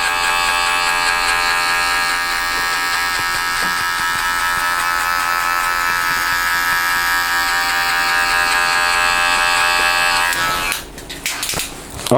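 Electric hair clippers with the blade lever fully open, cutting hair during a skin fade, give a steady, loud, close buzz for about ten seconds before the motor cuts out with a few scattered handling noises.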